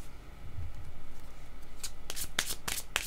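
Playing cards are shuffled by hand in a tarot-style reading, quiet rubbing early and then a series of sharp, crisp riffling bursts, close and alone.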